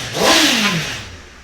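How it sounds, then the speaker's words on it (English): A motorcycle engine with a carbon exhaust revs sharply once, rising to a loud throaty roar and then dropping back, close by. "I make enough noise without being stupidly noisy, but really nice sound. Who doesn't love a bike engine"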